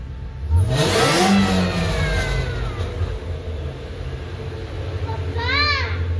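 Whipple-supercharged Ford Mustang Shelby GT350 engine revving hard above 4,500 RPM, a loud close roar that rises, holds and falls, with supercharger whine and a second short blip near the end, voices faint in the background.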